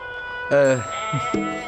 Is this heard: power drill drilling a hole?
no